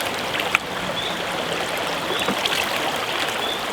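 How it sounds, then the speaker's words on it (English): River water pours and splashes into a bucket during river fly sampling, a continuous close, bright rushing gurgle with a small knock near the start. "So I'm going to fill that bucket with water again"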